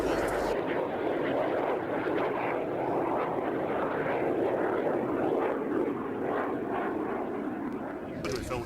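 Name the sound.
Jet Provost jet aircraft flying at airshow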